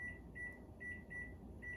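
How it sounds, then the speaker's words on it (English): A kitchen timer being set beeps in short, evenly spaced high tones, four or five quick chirps over a low hum in a home kitchen while stuffed peppers bake in the oven. "So we're gonna set a timer"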